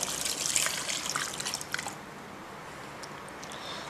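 Beef stock made from powder and water is poured over diced meat for a peppered beef pie with mushrooms, a close gurgling trickle and splash that tapers into a soft wet dribble with a few faint drips; no talking.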